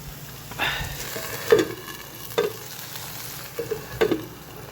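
Dried fish with bitter gourd and potato sizzles in a pan under a steady frying hiss. A spatula stirs it with several distinct scraping knocks spaced about a second apart.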